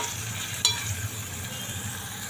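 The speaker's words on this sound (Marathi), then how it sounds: "कांदा साईडला करून घेते आणि जरा थोडा वेळ परतून घेते." Onions sauté in a pan for a mixed vegetable masala with paneer, carrot and beans, giving a soft, faint sizzle. A brief clink of stirring cuts through partway, with no voices.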